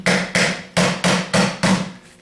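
A 3G alternator housing being rebuilt gets tapped on the side: six sharp, evenly spaced metallic knocks, close and loud, each ringing briefly before the next, with no talk.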